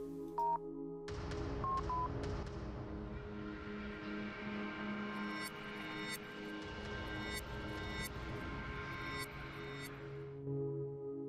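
A telephone number is dialed in the video game Without Escape: a few distinct keypad tones, then a long electronic buzzing and whirring tone broken by sharp repeated clicks, with no voices.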